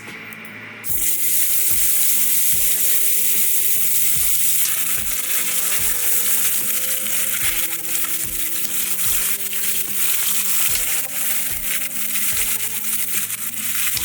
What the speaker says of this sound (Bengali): এবার বাকি দুটো মাছ আমি ভেজে নিচ্ছি।